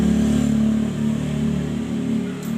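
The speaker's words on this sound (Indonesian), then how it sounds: "Ternyata yang bunyi kasar itu dari sini, dari tonjokan keteng yang udah lembek ya." A Honda Beat FI scooter engine idles roughly because of a worn, soft cam chain tensioner, giving a steady, close mechanical drone with no talking.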